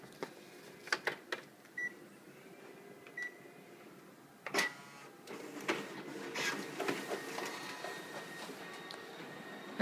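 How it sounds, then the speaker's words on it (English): A Konica Minolta Bizhub C203 copier pulls pages through its document feeder, with a series of clicks, clunks and short whirs early on that build into continuous mechanical feeding and rolling noise, close and moderately loud. "We're going to run through the document feeder, verify that works as well."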